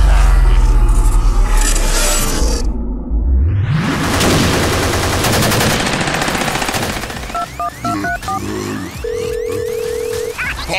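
Loud, rapid bursts of automatic gunfire in a Hungarian stage musical, layered with whooshes and staccato electronic tones from a dense soundtrack, with no talk.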